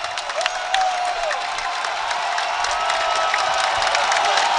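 A packed basketball gym crowd cheers and applauds loudly during a Skyline Conference championship game between YU Macs and Purchase College, a dense, sustained roar with shrill whistles and yells riding on top.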